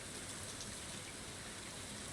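Soft, steady patter of rain in the farming video game Stardew Valley, a faint even hiss with no other sounds.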